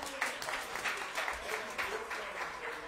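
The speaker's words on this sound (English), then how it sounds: "How about a nice round of applause?" A jazz trio audience gives a brief round of applause for the drummer, many hands clapping softly from a distance in a quiet room.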